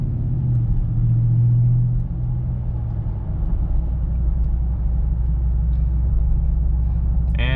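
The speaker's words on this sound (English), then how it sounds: "this is the carbon exhaust, the loudest one they have" Deep engine rumble of a lowered Ram 1500 pickup with a carbon exhaust, heard from inside the cab, steady and low, with a brief rise in pitch early on and a muffled drone throughout.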